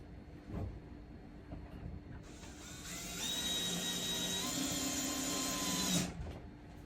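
Power drill driving screws during an RVLock installation on an RV: a nearby motor whines steadily for a few seconds with a rising pitch, then stops, set against low background noise.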